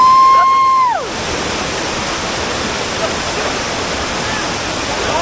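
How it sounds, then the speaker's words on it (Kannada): A monsoon waterfall on the Kodachadri trek roars as a loud, dense, unbroken wash of water. A brief whistling tone at the start fades into the rush. "ಸೊ ಇದು ಫಾಲ್ಸು ನೋಡಿ, ಫಾಲ್ಸ್"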